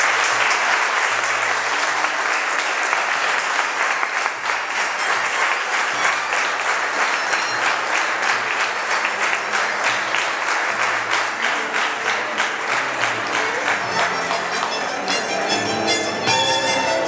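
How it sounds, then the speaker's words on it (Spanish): Sustained audience applause at an evening festival proclamation event in Arenales, a dense, loud roar of many clapping hands that continues evenly and turns briefly into more rhythmic clapping toward the end. "pido el primer o mejor y mayor aplauso de esta noche"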